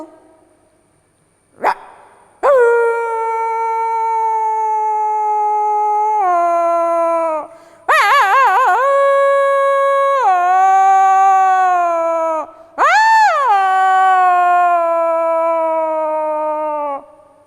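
Someone imitates dogs howling at night: a sharp yelp, then four long sustained howls with wavering pitch, loud and close, separated by brief pauses.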